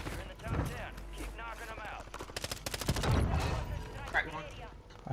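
Video game gunfire, with quick bursts of rapid shots in the middle of the stretch, mixed under ongoing voice chat between teammates.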